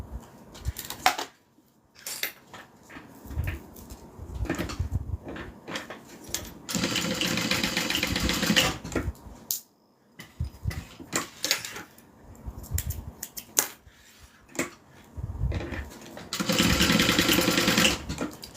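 A sewing machine stitches down a bag seam in repeated runs, each a steady close whir lasting a few seconds, separated by short pauses and handling clicks, with a longer sustained burst near the end.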